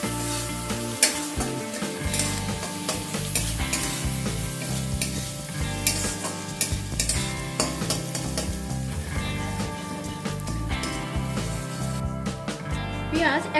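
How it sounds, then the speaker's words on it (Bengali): Finely chopped onions, two medium ones, fry lightly in a pan with a steady close sizzle and occasional stirring, partly covered by tonal background sound throughout. "এবার পেঁয়াজটাকে হালকা করে একটু ভেজে নেব"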